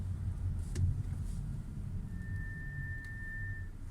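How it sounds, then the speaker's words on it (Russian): Brake pads on an Audi A4 B9 squeal in below-freezing weather during gentle braking, a thin steady high-pitched whine holding for over a second above the low rumble of the car's cabin and road noise. "когда ниже нуля опускается температура, колодки прям скрипят"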